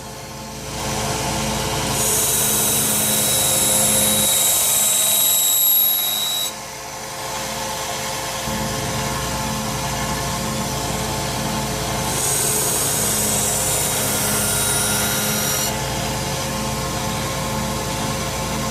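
A 1x30 belt sander sharpens and polishes a knife blade in a steady loud whirring grind, with two bursts of bright scraping as the blade is passed across the belt.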